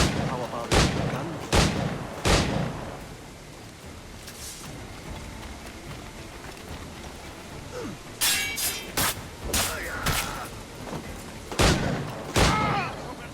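Gunfire in Assassin's Creed IV Black Flag: sharp shots crack out in scattered bursts, three early then a cluster with clinking and shattering, loud and close over a low ambient game backdrop.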